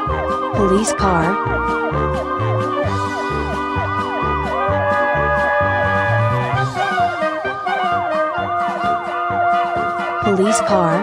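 A police car siren wails loudly and continuously, its rapid rising-and-falling pitch sweeps cycling close by with a low engine-like rumble underneath.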